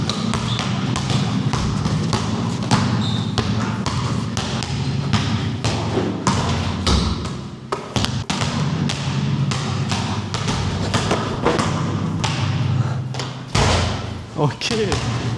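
A basketball bouncing on an outdoor playground court, giving repeated thuds with dribbling rhythm while people talk and shout loudly over steady background noise.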